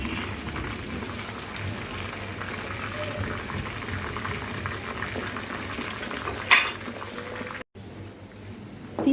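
Whole chicken frying in a pan, a steady bubbling sizzle held throughout with a faint clink of a utensil, then a brief cut-out near the end.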